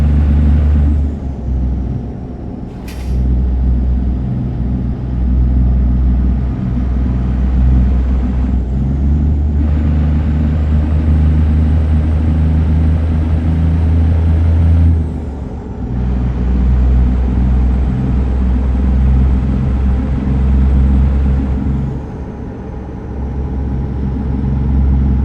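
An International LoneStar truck driving in American Truck Simulator while hauling a Krone Swadro trailer through southern Arkansas, its engine a steady, loud low drone with brief dips as gears shift.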